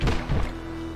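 An axe sub-weapon is hurled in the Castlevania-style game Heidelberg 1693, giving two close, dull thunks in quick succession, followed by a faint lingering tone.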